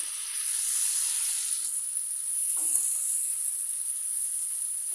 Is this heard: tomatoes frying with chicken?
yes